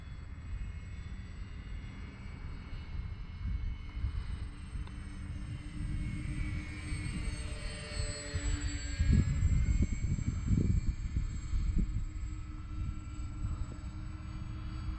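A steady droning engine buzz of an X-Fly Twin Nova twin-engine RC model airplane, continuous at moderate distance, with a slight swell and rumble midway through.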